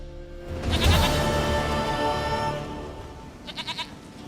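A goat in The Witcher 3 bleats a wavering, nasal call up close, followed by a couple of short, quick bleats.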